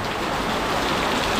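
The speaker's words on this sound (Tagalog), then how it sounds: "Ang lakas ng ulan." Heavy afternoon rain pours down steadily in a dense, even hiss with no pauses.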